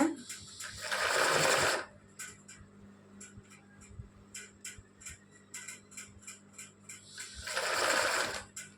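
An embroidery sewing machine stitches woolen thread in two loud, fast bursts at the start and end, with quieter ticking and clicking of the frame being moved between them.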